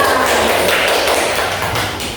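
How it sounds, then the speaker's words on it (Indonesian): Children in a classroom clap their hands together, a dense, steady patter of many close claps filling the room without pause. "Sekarang berikan tepuk tangan kepada kalian semua."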